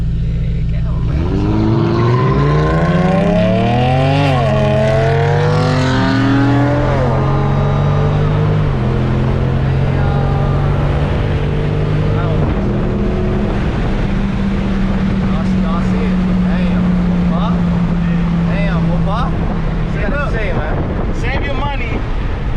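A V6 Dodge Challenger accelerates hard through a tunnel at night, its engine roaring loud and close with a pitch that climbs and drops through gear changes before settling into a long, steady drone.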